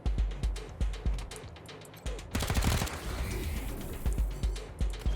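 Gunfire in the video game Wasteland 3: regularly spaced, punchy gunshots with a dense rattling burst in the middle, loud and close with no talking.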